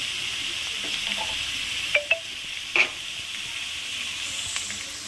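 Green peas are stir-fried in a pan with a soft, steady sizzle, broken by a few sharp metallic clinks of the spatula against the pan near the middle.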